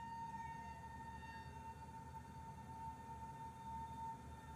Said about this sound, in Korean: 뭔 사이렌 소리가 나요?